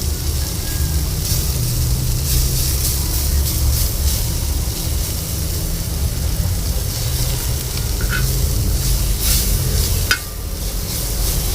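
Radish tops stir-frying in a pan on a hot plate, a steady hissing sizzle with occasional scraping and clinks of a utensil stirring, close and continuous.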